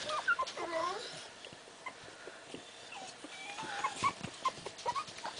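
Teddy Roosevelt Terrier puppies whimper and yip in a litter, high thin cries coming in short irregular bursts, close by, with a person talking softly at times.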